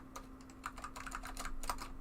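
Typing on a computer keyboard running A/UX, a quick irregular patter of crisp key clicks over a steady electrical hum, close and with no voices.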